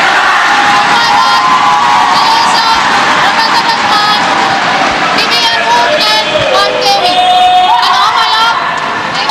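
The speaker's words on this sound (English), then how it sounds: "Difficult for the umpire to make herself heard over the very vociferous crowd at the moment" A loud, vociferous crowd cheers and shouts continuously for Malaysia at a women's team badminton semi-final at the SEA Games, with whoops and children's voices in the dense din and a commentator talking over it.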